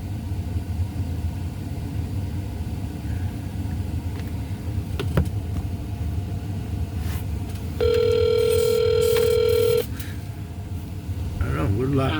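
An outgoing phone call to an insurance company rings back in a car, with a steady repeating ring tone heard near and clear over low engine rumble and road noise, then stopping.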